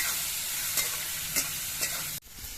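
Bitter gourd fries in a pan with salt and turmeric, a steady close sizzle broken by a few scraping stirs and a brief dip near the end.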